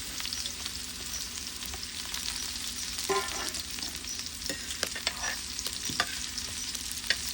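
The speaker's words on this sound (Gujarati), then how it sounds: "પછી વઘારમાં આ રીતે કાંદો કાપીને નાખી દેવાનો" Chopped onion frying in hot tempering oil with mustard seeds and cumin, a continuous close sizzle with scattered crackles and the scrape of stirring throughout, no talking.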